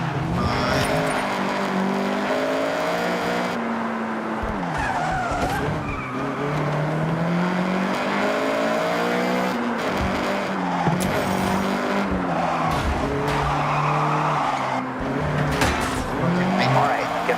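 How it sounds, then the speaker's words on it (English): Honda CRX driving hard in Forza Horizon, engine revving through shifts with tires squealing and skidding, loud and close, with someone talking over it at times. "All right, get the CRX up to speed."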